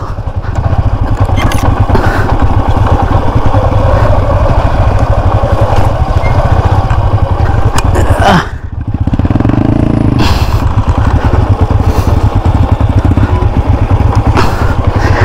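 A motorcycle engine runs steadily and loudly throughout while riding downhill without a working front brake, with rattling and clatter, briefly dipping midway before droning on again.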